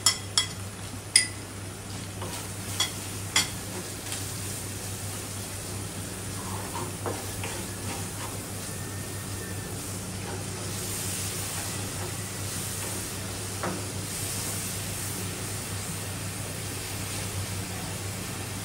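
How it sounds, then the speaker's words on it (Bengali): Shrimp sauté with turmeric, cumin, garlic and chili in a pan, giving a steady soft sizzle, with a few sharp utensil clinks against the pan early on. "এই যে আমাদের চিংড়ি মাছ কষা নিয়ে গেছে"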